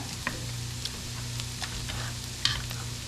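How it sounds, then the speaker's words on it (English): Tomatoes being mashed in a simmering pasta sauce pot, with a steady low sizzle under a few sharp scraping and clacking taps of a utensil against the pan. "I'm going to smush down my tomatoes a little bit."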